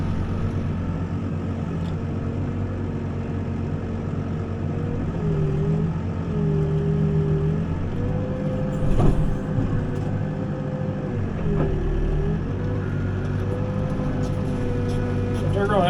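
A backhoe's diesel engine ticks over at a slow, steady idle, a constant low rumble that runs throughout with a slight shift in pitch midway, while a person talks over it.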